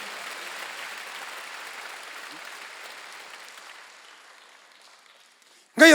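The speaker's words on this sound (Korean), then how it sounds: "박수 세게 치세요." A church congregation at a Wednesday worship service applauds in a broad, soft wash of clapping that gradually fades away, cut off by a sudden loud voice at the very end.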